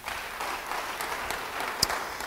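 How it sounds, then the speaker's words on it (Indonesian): Congregation applause in a church, a soft, steady patter of many hands heard at a distance, with a single sharper clap standing out near the end. "Beri tepuk tangan bagi dia."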